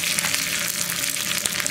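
Onions and curry leaves fry in oil in a pan for a cucumber and lentil curry, giving a steady, close crackling sizzle that runs unbroken for about two seconds with no voices.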